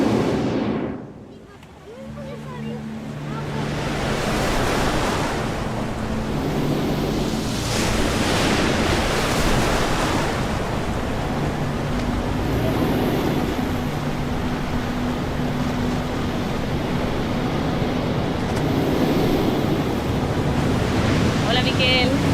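Surf crashing against rocks and strong wind at the Peine del Viento steel sculptures on the San Sebastián coast, loud and continuous with rushing gusts and repeated wave surges, no talk.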